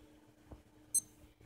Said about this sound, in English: Go on, beep.